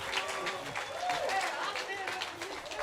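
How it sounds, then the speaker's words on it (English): A crowd at the Soundset 2015 hip-hop festival claps and cheers for the festival founders, a dense, steady wash of applause with voices talking over it. "Give them a big round of applause, my man Jay and Siddiq."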